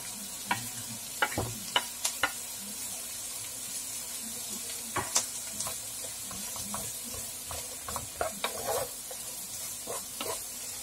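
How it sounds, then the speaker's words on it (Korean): Broccoli stir-fried with onion in a pan for broccoli soup: a soft, steady sizzle with scattered spatula scrapes and taps against the pan, fairly quiet and close, with no talking. "브로콜리를 넣어서 함께 볶아줍니다."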